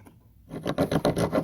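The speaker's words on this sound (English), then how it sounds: "Let's see about sawing." Rasping back-and-forth sawing strokes from the fish-scaler edge of a small survival kit knife, starting after a brief pause and continuing as a steady rhythmic scrape, close and moderately loud.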